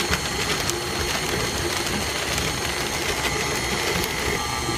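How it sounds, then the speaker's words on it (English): An electric mixer runs steadily as flour is funneled into sugar cookie dough, a constant close motor whir with dense mechanical noise throughout. "So now you're going to turn back on your mixer, and you're just going to funnel your flour in slowly."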